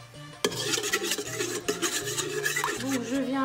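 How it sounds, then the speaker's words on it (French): A spoon stirs five tablespoons of oil into batter for Tunisian soufflé, giving soft, quiet scraping and rubbing strokes in an uneven rhythm against the bowl, with no talking. "Et on mélange."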